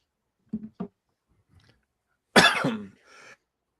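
A few small throat sounds lead into one loud, harsh cough close to the microphone, followed by a softer trailing breath.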